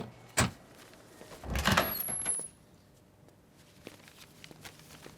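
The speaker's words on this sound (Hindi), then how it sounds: "मैं दरवाजा अनलॉक करती हूँ, सामान टीवी के पास रख देना।" A house door being unlocked and opened, with a sharp click of the lock, then a scraping, rumbling slide lasting about a second before the room falls quiet apart from small faint ticks.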